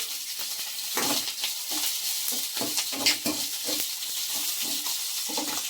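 Ginger and green chillies fry in hot oil in a pan, giving a steady close sizzle with soft crackles and occasional spatters, and no voices.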